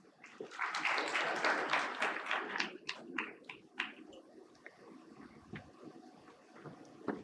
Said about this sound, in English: A warm round of applause for all our distinguished guests.